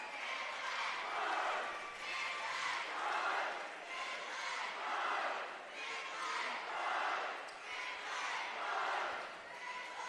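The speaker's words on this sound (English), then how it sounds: "Crowd very enthusiastic tonight." An enthusiastic crowd at a high school basketball game cheers in swelling, rhythmic waves, rising and falling every second or two at a moderate distance.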